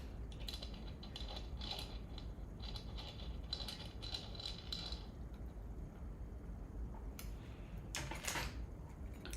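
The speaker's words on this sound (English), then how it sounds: "Now I'm going to tighten up this one on the bottom." A bolt tightened on the frame of a Ratrig V-Minion 3D printer kit, heard as short bursts of close, quiet ratcheting clicks and creaks, then a pause and a couple of brief scrapes.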